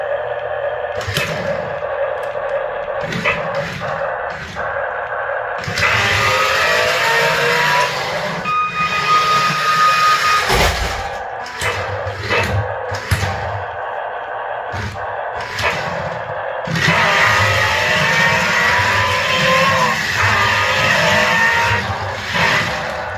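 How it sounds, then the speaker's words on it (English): A Veenix V991 transforming RC car drives around in robot mode, its small motor whining and buzzing in bursts with pauses, clicks and knocks between runs, fairly loud and close, with no talking. "Now let's see if it'll drive around in robot mode."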